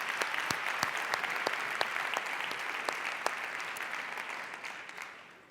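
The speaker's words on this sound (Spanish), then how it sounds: "si le damos un aplauso desde luego" An audience at an inspirational speaking event applauds, a dense crowd of clapping hands with a few sharp individual claps standing out, steady and then fading toward the end.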